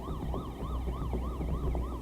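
Ambulance siren wailing in a steady rising and falling cycle, loud and continuous over a low traffic rumble, no voices.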